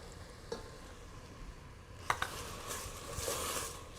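Onions softening in a pan with tomato juice give a low, steady sizzle, broken by a few sharp scrapes and taps of a stirring utensil against the pan, close up with no talk.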